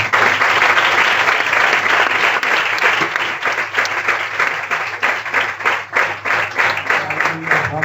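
A church congregation breaks into loud, sustained applause after a pastor's prayer, dense clapping that fills the room from the start and slowly thins toward the end.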